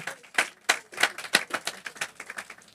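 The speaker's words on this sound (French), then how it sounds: "donnez une main d'acclamation à Dieu pour qu'on avance" A church congregation claps during a sermon, with sharp, uneven claps rising and falling in a loose rhythm and no steady beat.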